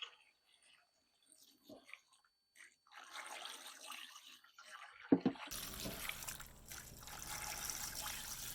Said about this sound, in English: Now we're going to add our water.